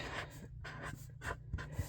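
Pen writing the name on the front of a Christmas card, soft close scratchy strokes in short repeated bursts with brief pauses, quiet and intimate.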